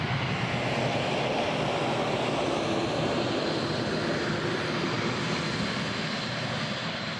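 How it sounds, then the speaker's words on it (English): Engines of a C-17 military transport aircraft at RAF Brize Norton give a loud, continuous, broadband roar that holds steady and close throughout. "The C-17 stops outside the repatriation centre"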